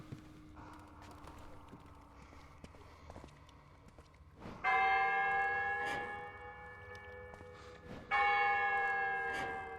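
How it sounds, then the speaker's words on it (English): Out-of-tune church bells in Silent Hill: Downpour, two loud clanging strikes with long ringing decay, after quieter hollow tapping and background tones. "These bells don't sound right."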